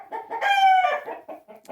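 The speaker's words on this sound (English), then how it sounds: "these roosters think they are, that they have to keep going at it, are disturbing our recording" A rooster in a chicken coop lets out a loud, close crow with a long sustained middle, framed by short clucking calls from the flock before and after.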